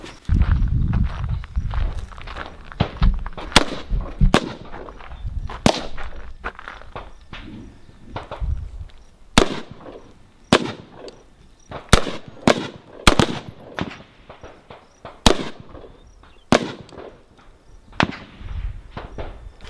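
.223 rifle fire on an outdoor range during a shooting class in Nunn, Colorado, with many sharp cracks from several shooters going off irregularly, some close and loud, others fainter, with no talk.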